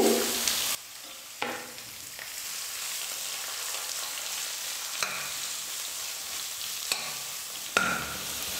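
Onions and curry leaves sautéing in a pan, a steady soft sizzle broken by a few sharp stirring scrapes, close and moderately quiet with no talking.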